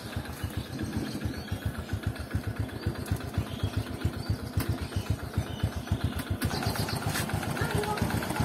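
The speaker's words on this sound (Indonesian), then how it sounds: "Suara tek-tek ini dari kampas ganda ya, aman, tidak ada masalah." A motorcycle being checked before long-distance touring idles close by with a steady, rapid ticking from its double clutch linings, the even pulses repeating throughout alongside the engine's low putter.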